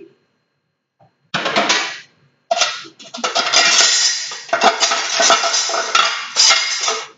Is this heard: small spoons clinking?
yes